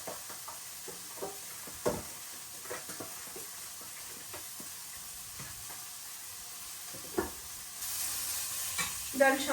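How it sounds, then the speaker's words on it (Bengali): Koi fish frying in a pan gives a soft, steady sizzle with occasional light knocks and stirring clatter, growing into a louder hiss near the end. "তারপরে মাছটা ভাজা নিব।"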